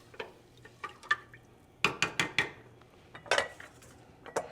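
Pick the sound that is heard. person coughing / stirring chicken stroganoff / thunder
stirring chicken stroganoff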